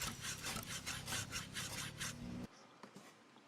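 A layered repair-work sound effect is dominated by close, rhythmic sawing strokes on wood, which stop abruptly, leaving a few faint knocks in near silence.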